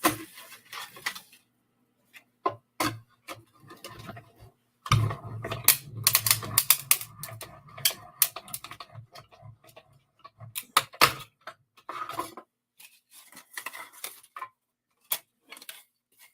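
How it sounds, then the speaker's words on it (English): Paper label and cloud shapes pass through a die cutting machine, giving a run of mechanical clicks, ratcheting and crunching bursts at close range, louder in the middle, with no voices. "we'll die cut our label and clouds"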